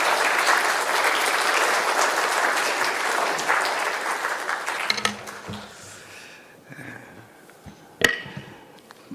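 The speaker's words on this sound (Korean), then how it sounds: "나오실 때 박수로 환영해 주시기 바랍니다" A church congregation claps to welcome the pastor during a Sunday worship service, a steady round of applause that fades after about five seconds, followed by a few scattered knocks and one sharp bang.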